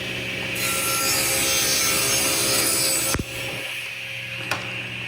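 A saw rips a wood board lengthwise for a stool top, a loud continuous roaring whine of the blade cutting that drops off abruptly near the end, leaving a quieter running hum and a brief click.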